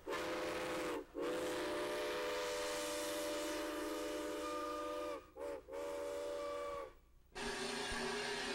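A steam locomotive's whistle sounds in long sustained chords with short breaks, broken by bursts of hissing steam, loud and close.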